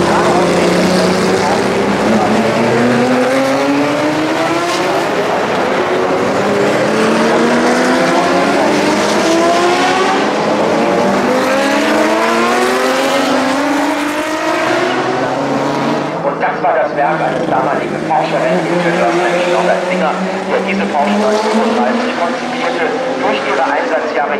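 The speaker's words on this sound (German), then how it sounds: "Auf der Start- und Zielgeraden jetzt ein Paket von Fahrzeugen." A pack of classic race cars roars down the start-finish straight at the Norisring. Loud engines sweep up and fall away in pitch as car after car passes close by.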